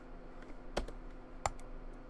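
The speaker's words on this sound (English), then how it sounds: "By the way, I'm clicking these numbers to select." Two crisp keystrokes on a computer keyboard's number keys, spaced under a second apart, selecting squadrons in World of Warships over a faint background drone.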